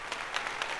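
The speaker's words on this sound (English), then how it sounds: "Let's give them a round of applause." Short burst of applause from a live show audience, a dense wash of many hands clapping at steady, moderate volume with no break, heard briefly.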